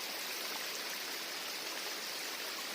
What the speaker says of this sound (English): Down to the river.